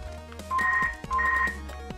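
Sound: mobile phone ringing

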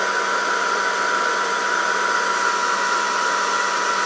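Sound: air curler hair styler blowing, switched to cool heat

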